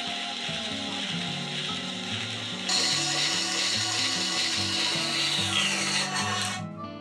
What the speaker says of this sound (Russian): Теперь устанавливаю в ленточную пилу и отпиливаю от этого болта примерно